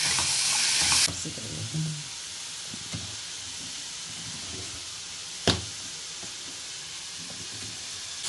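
Coconut and spices sizzle and hiss in a hot pan, with a loud burst of frying at first, then a steady crackle broken by occasional stirring clacks.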